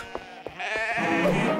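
A cartoon sheep bleats in a few short calls that swell into a long, loud wavering bleat close by.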